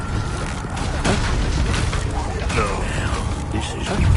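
A Confringo fire spell from Hogwarts Legacy bursts into a loud, sustained boom, dense and roaring through the whole stretch with repeated blasts and a voice talking over it.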